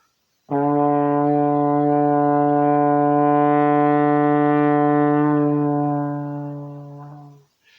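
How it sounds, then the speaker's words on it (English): A single long, steady low trombone note, a D, held for about seven seconds at strong volume, then fading away. "here's our D long tone"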